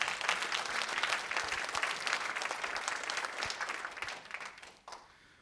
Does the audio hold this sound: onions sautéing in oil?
no